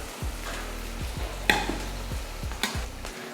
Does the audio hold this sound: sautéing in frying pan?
yes